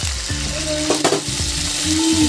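Ginger paste and soybeans fry in a pan for a Bengali soybean dish, with a constant loud sizzle and a few clinks and scrapes of a spoon stirring against the pan. No one speaks.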